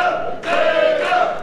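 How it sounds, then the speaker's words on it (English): A wrestling crowd chanting for Davey Vega at a Glory Pro show: a loud, sustained unison chant of many voices in two rhythmic phrases, filling the arena. "One passionate fan has ignited this entire crowd to chant for Davey Vega"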